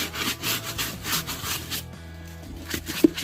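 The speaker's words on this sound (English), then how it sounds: "So I gotta scrub a little harder" A brush scrubs embedded grease off a Red Wing leather steel-toe boot, size 11.5, in rapid back-and-forth rasping strokes close by, then slows and stops near the end.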